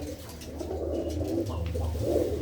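A loft of young racing pigeons in Tarn Taran, Punjab, coos continuously at close range, their overlapping throaty rumbles forming a thick, steady murmur with a few brighter calls rising above it.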